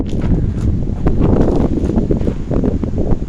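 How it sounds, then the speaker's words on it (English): Strong wind blustering across the microphone outdoors, a continuous rumbling roar with gusty surges and faint rustling. "It's really windy out here, so I hope you can hear me."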